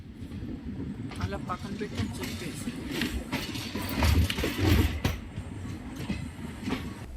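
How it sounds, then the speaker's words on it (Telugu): A DEMU passenger train rolls through a station and switches tracks, giving a steady rumble and clatter of wheels with rising, swelling bursts midway, and a voice talks over it. "ఇప్పుడే మన ట్రైన్ ట్రాక్ చేంజ్ అవుతోంది"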